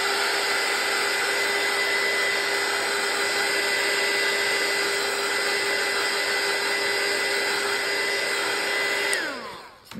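A heat tool or hair-dryer-style blower drying clear gesso on a mixed media journal tag roars loudly and steadily at close range for about nine seconds, then winds down with a falling pitch as it switches off.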